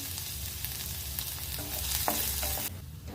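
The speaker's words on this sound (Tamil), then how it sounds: "பூண்டு எண்ணெயில் நல்லா ரோஸ்ட் ஆகிடுச்சுங்க." Ten crushed garlic cloves fry in hot oil in a pan, with a loud steady sizzle, close by, broken by the scrape and clatter of stirring. The sizzle drops off sharply near the end.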